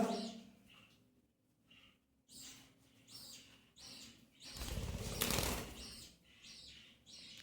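Young pet birds flap their wings in bursts as they learn to fly, a repeated fluttering close by, with one louder, longer flurry midway and faint chirps between.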